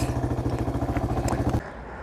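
A motorcycle idles with a rapid, even engine putter up close as it is parked near a tree, then the engine cuts off abruptly, leaving quiet background noise.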